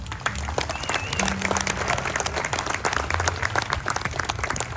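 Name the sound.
festival audience applause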